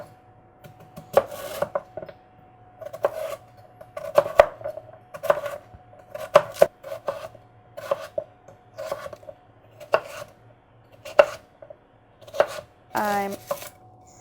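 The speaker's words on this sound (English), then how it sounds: "now I'm just going to cut all of them in small cubes" A knife chops sweet potatoes into small cubes on a cutting board, a steady series of crisp close thuds roughly every half second to second, with a low hum underneath and a brief rising sound at the end.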